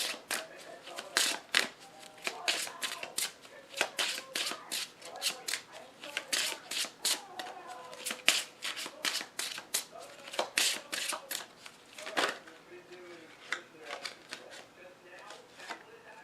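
Tarot and oracle cards are shuffled close up in a long run of crisp riffling and slapping bursts with brief pauses, with no talking.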